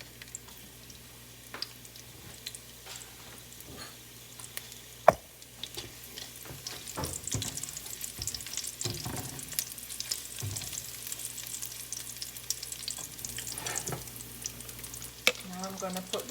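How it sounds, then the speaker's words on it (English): Garlic and pimento frying in a cooking pot, a soft steady sizzle with scattered crackles and occasional stirring clinks, close and moderately quiet throughout. "I'm gonna put some garlic in the pot and some pimento"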